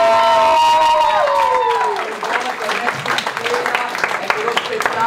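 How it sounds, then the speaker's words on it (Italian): An audience at a parish oratory festival theatre show breaks into steady, loud applause after a tonal musical passage fades, the clapping dense and sustained to the end. "Un grande applauso ad Alex"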